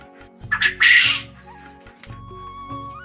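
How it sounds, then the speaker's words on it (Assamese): Quails calling on a quail farm, with a short burst of loud, harsh squawking calls up close over a low, steady background hum, and no one speaking. "এই চাওক বটা চৰাই, এইবোৰ মাতবোৰ শুনিছে না,"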